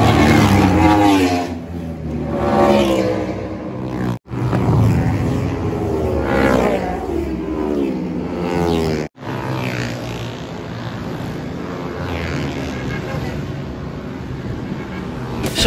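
Motorcycles pass along a motor rally route near UST, their engines roaring and revving loudly and continuously while rising and falling in pitch, with faint voices mixed in.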